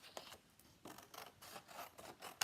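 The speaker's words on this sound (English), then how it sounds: "I've got a large pair of scissors here just to take some of that excess off" Large scissors snip repeatedly through excess paper from a craft card, a faint, close series of crisp rhythmic cuts.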